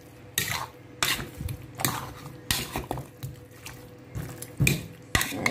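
Braised Jamaican oxtail being stirred and mixed in a pot, with repeated clanks and scrapes of a utensil against the pot in an irregular rhythm, close and moderately loud, no talking.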